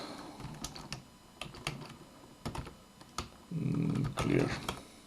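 Bursts of keystrokes tapped on a computer keyboard at a console, coming in uneven clusters with pauses between them, close and clear, with a brief stretch of louder rustling noise near the end.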